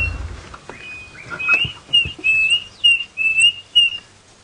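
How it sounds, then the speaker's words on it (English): Klaas's cuckoo call played back on a sunrise safari drive: a series of clear, whistled bird notes repeating in short bursts, fairly close and loud over a quiet background. "That's the sound of the classes cuckoo."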